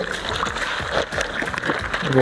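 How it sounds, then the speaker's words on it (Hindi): Water is poured into a waterproof paper bag, giving a brief sloshing, splashing pour over about two seconds while someone talks over it. "ये मैंने डाल दिया है इसके अंदर पानी"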